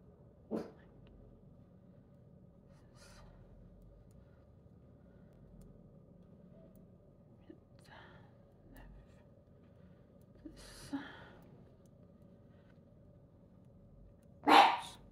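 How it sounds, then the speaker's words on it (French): An elderly 14-year-old female dog barking indoors: a few short, separate barks spread over a quiet stretch, with a louder bark near the end. "Désolée si mon chien jappe, elle a 14 ans."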